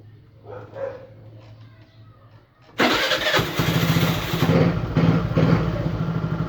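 A Suzuki Burgman scooter engine is cranked and starts after a quiet stretch, then runs loud and close with throttle-driven revving pulses.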